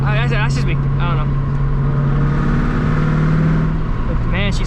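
A 1998 Mustang GT 4.6L V8 with a catless X-pipe exhaust idles and runs up close, a loud, deep, steady drone with a throbbing low note, while people talk over it.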